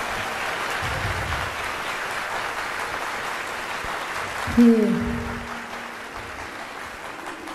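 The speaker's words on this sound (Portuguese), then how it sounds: "Queria até pedir uma salva de palmas para ele, essa pessoa batalhadora." Live concert audience applauding, a steady patter of clapping from the crowd, with someone speaking over it briefly midway as the applause continues.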